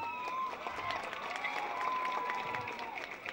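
An audience claps steadily at the Getting to Zero Rally for World AIDS Day, a faint, continuous patter of many hands heard from a distance, with soft voices underneath.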